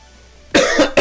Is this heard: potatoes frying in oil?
no